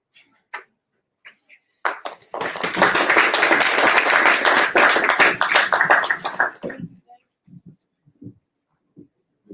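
Audience applause following a panel session on angel investing, a dense burst of clapping from a room of people lasting about four seconds, preceded and followed by a few scattered isolated claps.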